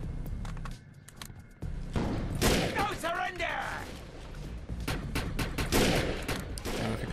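Gunfire in the PC shooter video game Defiance, bursts of rapid shots and booms crowding together, loud and close, with someone talking over the action.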